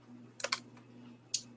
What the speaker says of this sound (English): if you want to finish typing